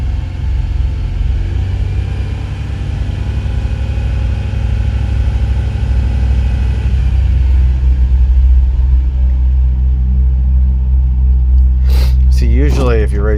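A 2000 Ford Windstar with a 3.8L engine and a misfire runs with a loud, close, rumbling drone that swells as revs rise, with a voice speaking over it near the end.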